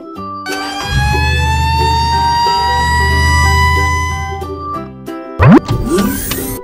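Cartoon fire truck siren wailing loudly for about four seconds over a low engine rumble with music, ending in a short springy effect.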